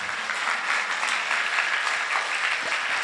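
A crowd at a Hindu devotional discourse gathering claps loudly and continuously, a dense, even burst of applause filling the short stretch with no speech over it.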